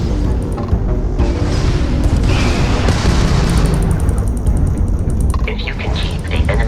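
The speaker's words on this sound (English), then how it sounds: "that's a Crimson Fleet ship bringing its weapons to bear" Crimson Fleet starship weapons firing in a Starfield space battle, continuous loud booms and explosions layered with rapid bursts of blaster fire and electronic beeping.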